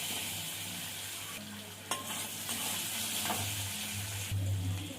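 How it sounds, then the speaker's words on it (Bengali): Potatoes and onions fry with chilli, turmeric and salt in a pan, giving a steady low sizzle broken by scraping stirs and a few sharp clinks of the spatula. "আলুর সঙ্গে পেঁয়াজের সঙ্গে একটু ভাজা ভাজা করে নেব।"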